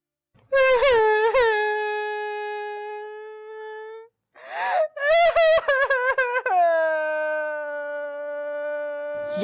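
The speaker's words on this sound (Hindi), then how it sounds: "बाहर तलक तेरे रोने की आवाजें आ रही।" A woman cries and wails in long, drawn-out moaning sobs, several loud rising and falling cries broken by short gasps, close and alone.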